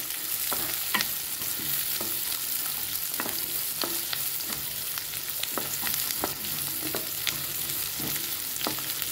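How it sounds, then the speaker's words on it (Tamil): Garlic and halved shallots sauté in a pan with a constant sizzle. A spatula scrapes and taps against the pan in a steady irregular rhythm throughout, close and clear, with no talking. "இப்போ பூண்டு வெங்காயத்தை நம்ம நல்லா வதக்கி விட்டுக்கலாங்க."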